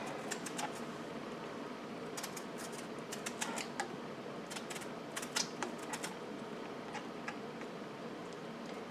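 A peeler scrapes the skin from a large, tender yellow squash. Quiet, irregular bursts of short scraping strokes sit over a soft steady background hiss.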